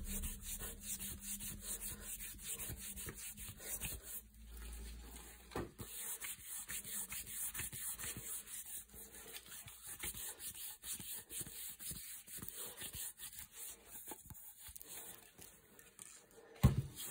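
Oil finish is rubbed by hand into the wooden stock of an AYA No. 25 shotgun, a long run of quiet, close, steady rubbing strokes with faint shuffles.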